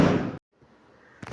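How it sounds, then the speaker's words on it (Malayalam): A large firecracker bursts nearby with a loud, sharp blast, followed by a brief dead silence, a low lingering rumble and a second, quieter crack near the end. "കുറച്ച് സൗണ്ട് കട്ടായി ഉണ്ടാവും, കാരണം ഇവിടെ വലിയൊരു പടക്കം പൊട്ടിച്ചാണ്"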